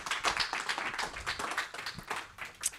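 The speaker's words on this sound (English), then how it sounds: "Let's give Almu another round of applause" An audience applauds a speaker at a talk on geopolitics in outer space, a dense, steady wash of many hands clapping at moderate distance with no voices over it.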